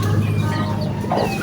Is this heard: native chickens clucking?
yes